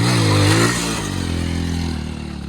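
A 100cc motorcycle held up in a wheelie, its engine revving loud and close, then dropping in pitch through a gear change before steadying into a lower drone.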